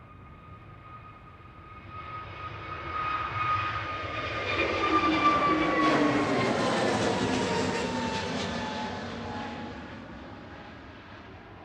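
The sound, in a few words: Sky Cargo aircraft arriving at Manchester Airport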